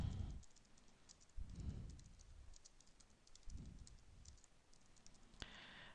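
Quiet, quick clicking of keys on a computer keyboard as a blog name is typed, light irregular taps at close range over a faint low background hum, with no voices.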